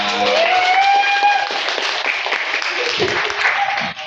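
Applause from an audience at a municipal disaster-prevention drill, a broad steady wash of clapping lasting throughout, with a few tonal whistles or voices rising through it early on.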